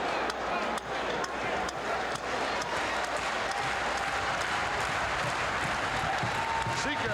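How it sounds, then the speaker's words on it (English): A capacity wrestling arena crowd cheers and claps during a tag-team match, a thick roar of applause filling the space with an announcer's voice on top. "Sika getting his capacity crowd going"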